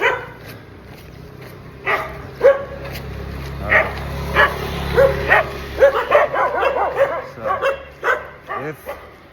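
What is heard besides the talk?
dogs barking at dawn in Canggu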